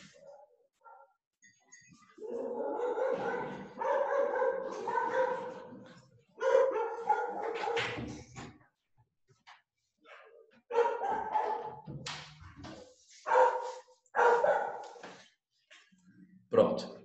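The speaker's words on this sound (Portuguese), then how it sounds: "ele vai ficar latindo no portão durante umas 9 horas seguidas" A dog barks and yips at a gate in repeated bursts, close by, with short pauses between the volleys and a few whiny notes.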